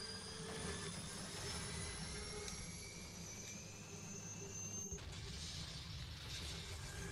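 Helicopter in the video game 007: Quantum of Solace, a steady whirring rotor and turbine drone with mechanical rattling, constant and fairly loud, then a sudden cut where the tone shifts.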